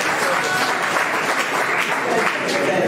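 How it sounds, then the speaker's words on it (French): Applause from a university student gathering in Mwene Ditu, a dense, steady wash of many hands clapping that holds at full loudness throughout, with faint voices mixed underneath. "On peut quand même applaudir."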